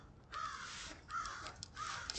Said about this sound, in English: Those are the crows.